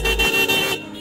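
A vehicle horn fitted on a horn seller's scooter at a Delhi street market blares one short, loud, tonal blast that cuts off after about a second.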